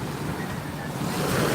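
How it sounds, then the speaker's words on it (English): Ocean waves wash steadily at Biloxi, giving a dense, continuous roar of surf mixed with wind buffeting, which swells a little louder toward the end with no voices. "So, these waves here, guys? The waves?"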